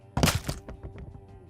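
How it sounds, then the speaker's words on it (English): A loud thud with a sharp crunching crack, followed by a few quieter knocks and rattles fading over about a second, with a faint low hum underneath. "a loud thud came from the room he sat across from, only this time it was punctuated by a resounding wet crunch"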